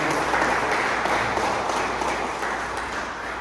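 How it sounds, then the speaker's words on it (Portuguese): Steady applause from a church congregation during a worship service, dense and sustained clapping that fills the room for a few seconds and fades slightly toward the end. "Você pode dar uma salva de palmas para o Senhor?"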